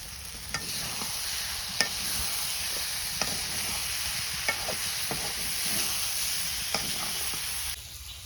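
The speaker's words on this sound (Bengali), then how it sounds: "মাছগুলা দিয়ে 5 মিনিট ভাজা ভাজা করুন" Small fish with sour leaves and green chillies fry in a village kitchen pan, giving a constant close sizzle broken by periodic scraping clicks of a stirring utensil.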